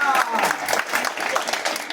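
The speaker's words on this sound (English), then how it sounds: "Give yourself a hand of applause" A congregation applauds in a brief burst, uneven clapping rising and falling in pulses, fairly close and loud, with voices mixed in.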